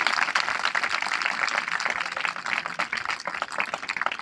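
Crowd applause for teachers at a school farewell gathering, a dense continuous wash of many hands clapping that stays steady and fairly loud for about four seconds with no talk over it.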